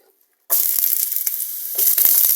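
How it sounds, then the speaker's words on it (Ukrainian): Chopped onions hit the oil in a preheated multicooker and burst into a loud, steady sizzle after a moment of silence, with crackles and stirring clicks throughout and no talk. "вже нагрілася мультіварка, ми підсмажуємо цибульку"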